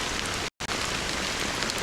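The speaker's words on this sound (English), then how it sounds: "how long has this rain been going on for?" Steady rain pours down in a dense, continuous hiss, broken only by a brief silent gap near the start before the downpour carries on unchanged.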